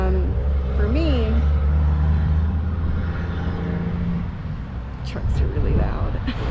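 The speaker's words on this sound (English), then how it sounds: "trucks are really loud" Heavy trucks roll past close by, a loud, continuous low rumble with a brief rising engine whine near the start and a surge of noise toward the end.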